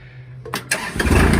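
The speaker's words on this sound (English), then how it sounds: "let's get this started up and measure" A Kubota L2501 compact tractor's engine cranks briefly with a low whir, catches with a couple of sharp bursts and rises into a loud, rough running roar close by.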